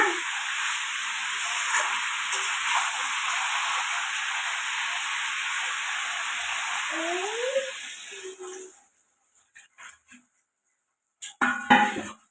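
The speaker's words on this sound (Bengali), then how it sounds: "ফুলকপির কষা হয়ে গেছে, এইবার জল দেবো" Water added to a sizzling potato and cauliflower fish curry in a pan: loud, even hiss and sizzle for several seconds, then it abruptly dies away, leaving only a few faint clinks and knocks.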